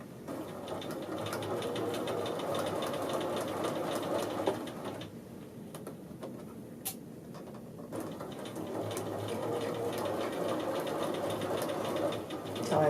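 Sewing machine running steadily while stitching the front edge of a men's shirt collar band, with a brief slowdown in the middle before the motor picks back up, close and continuous.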